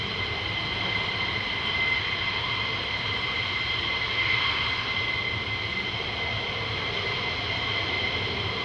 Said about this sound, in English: now watch these nozzles squeeze for the afterburners